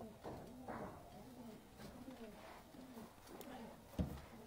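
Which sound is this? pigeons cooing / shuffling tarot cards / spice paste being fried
pigeons cooing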